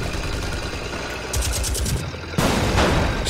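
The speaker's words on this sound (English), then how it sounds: "Of course I'm being shot at." Gunfire in the World War II game The Saboteur, rapid bursts of loud shots cracking over a steady engine rumble, intensifying into a denser, harsher volley toward the end, with no voices.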